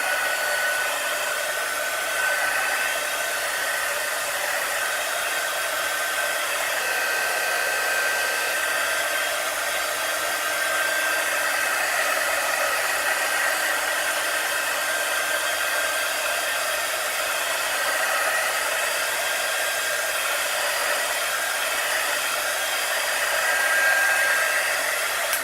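A hair dryer blows continuously at close range to dry a chalk transfer, a steady, loud whoosh with a faint whine that holds evenly throughout with no talking.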